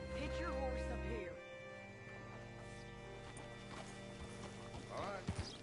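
Horse hooves clip-clopping in the video game Red Dead Redemption, a steady walking rhythm at moderate volume under a low music drone, with a brief voice near the start.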